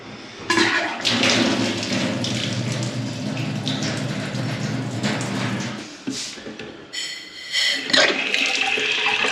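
A household toilet cistern refills once the water supply is turned back on after plumbing work. Loud rushing water runs continuously, dips briefly near the end, then gushes again.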